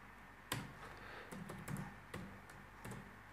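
Fingers type on a computer keyboard in short bursts of quick clicks, with soft separate keystrokes between them, close and quiet in a still room.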